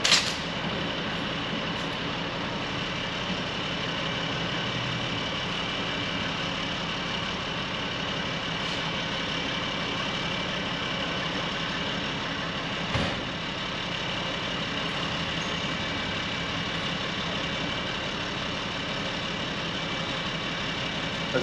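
A small forklift's engine idles steadily for a long stretch, a continuous even mechanical hum nearby with only a couple of faint clicks and no talking.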